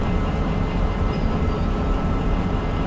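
Steady rumbling roll of a train moving through a rail yard in the video game Derail Valley, a continuous dense low-frequency drone with faint rattle, constant and close throughout.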